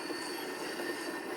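A continuous roar of video game diesel F-unit locomotives rounding a curve, with a steady mechanical rumble and a faint wheel squeal, heard without any talking.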